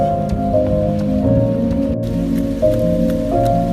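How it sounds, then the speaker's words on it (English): Rain falls steadily outdoors on a cold 44-degree day, a dense continuous patter with scattered drips and splashes close by, with no talking. "It's 44 degrees and it's nice and rainy outside."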